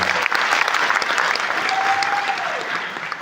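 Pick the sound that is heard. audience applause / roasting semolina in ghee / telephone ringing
audience applause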